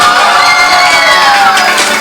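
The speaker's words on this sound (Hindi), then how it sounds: "तालियां बजाएं, शोर मचा के बताएं, अपनी मौजूदगी का एहसास दिलाएं" A crowd at a mall game show cheers and shouts loudly, with many excited voices and children's shrieks blending into one continuous, close roar.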